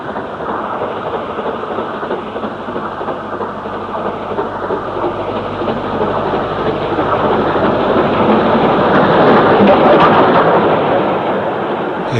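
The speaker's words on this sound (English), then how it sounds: "70001 Hotspur has a down parcels train" Steam locomotive 70001 Hotspur hauling a down parcels train, a continuous loud rumbling roar that swells gradually as the train draws nearer, with no voices.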